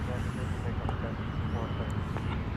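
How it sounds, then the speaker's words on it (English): Airbus A320 jet arriving from Denver on approach at DFW Airport at night, a steady broadband engine roar held at one level throughout, with people talking over it. "It'll be an Airbus A320, and that is what we are going to be seeing next here on Runway DFW"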